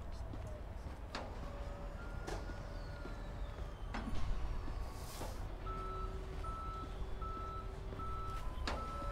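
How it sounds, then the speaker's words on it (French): Tow trucks arrive in the Police Simulator patrol game, with repeated electronic reversing beeps sounding in short regular pulses over steady engine rumble and street ambience, alongside brief clunks and a louder passing noise midway. "les dépanneuses sont en train d'arriver."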